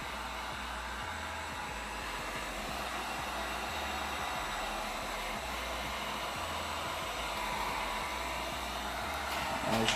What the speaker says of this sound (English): Heat gun, setting 1, on low.